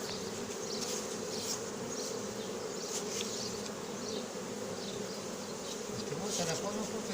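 A swarm of honeybees being collected after swarming drones in a dense, continuous buzz close by, with individual bees zipping past now and then over the steady hum.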